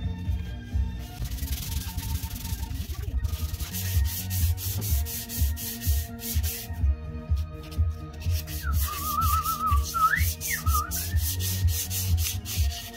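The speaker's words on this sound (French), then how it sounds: "Qui c'est qui chante pas ou qui c'est qui n'a pas sifflé là?" Someone whistles a wavering tune over continuous rhythmic hand sanding of a Peugeot 103 moped's Leovinci exhaust pipe, the scraping strokes loud and close, with no talking.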